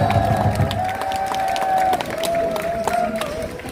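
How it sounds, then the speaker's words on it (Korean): A crowd at a candlelight rally in Cheongju claps and cheers together, with a sustained whistle-like tone riding over the mixed clapping and voices. "김종호 청주사람에게 박수 한번 보내주십시오."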